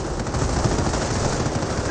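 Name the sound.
gunfire at a Panther tank in the video game Company of Heroes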